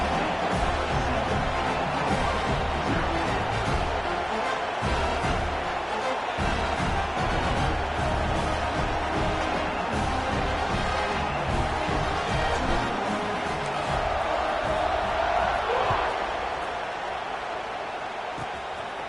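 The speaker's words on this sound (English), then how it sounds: "this crowd now ready to get behind them" A big football crowd at a USC versus Oklahoma game roars in a steady, dense wash before the kickoff, sustained and loud throughout with no break.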